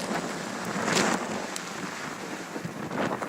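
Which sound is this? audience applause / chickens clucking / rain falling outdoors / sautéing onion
rain falling outdoors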